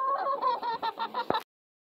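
Backyard hens in a new coop cluck in a quick, close run of short calls, loud and alone, ending abruptly.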